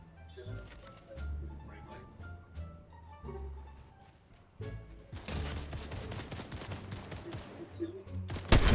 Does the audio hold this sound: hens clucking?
no